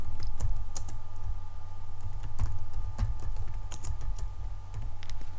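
Quick taps on a computer keyboard as a name is typed, crisp close keystrokes in a steady run over a faint background hum.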